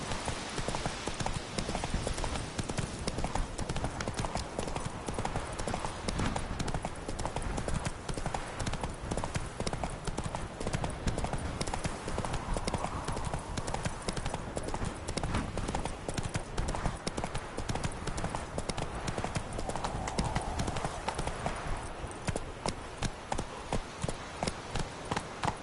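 Roach, the horse in The Witcher 3, gallops continuously, a dense rapid clip-clop of hooves driving steadily for a long stretch with faint game ambience beneath and no speech.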